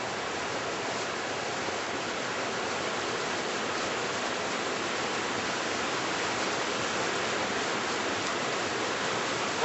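A river flowing in the wild, rushing as a steady, dense broadband roar that holds an even loudness throughout, close by and with no voices.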